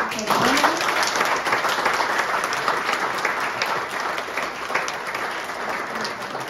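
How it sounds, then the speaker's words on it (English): An indoor startup meetup audience gives a big round of applause, a full, even patter of many hands clapping for several seconds, gradually easing off toward the end. "big applause"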